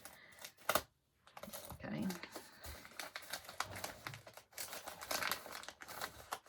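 Plaid paper being torn and crinkled off a gift package, with dense rustling and tearing bursts close up, a few sharp crackles, and some quiet talk mixed in.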